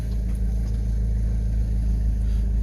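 Diesel Toyota HiAce van with an automatic gearbox driving along, a steady low engine drone and rumble heard from inside the cab, constant and fairly loud with no talk.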